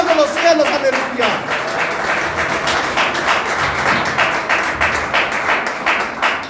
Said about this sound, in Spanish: Si lo vas a aplaudir, apláudelo como corresponde al Dios de los cielos